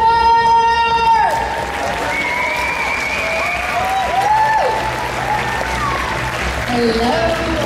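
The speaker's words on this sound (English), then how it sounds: "Round of applause for Mr. Jeff Ward!" Applause from an audience in front of the main stage at Comic Film & Manga Fest Rotterdam, a steady crowd clapping for a guest, with stage music and tones ringing over it throughout.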